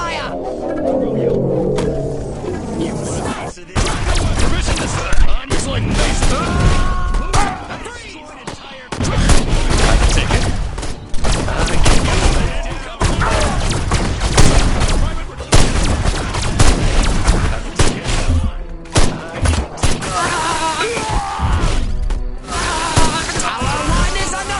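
Gunfire against a tower in the video game Destroy All Humans! remake on PS4, loud rapid bursts of shots and booms going on almost nonstop with brief lulls, while in-game voices call out over the noise.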